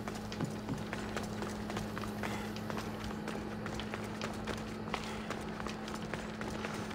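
Horses gallop in the Assassin's Creed Odyssey video game, a steady rapid clatter of hooves running under a constant low engine-like hum, with no voices heard.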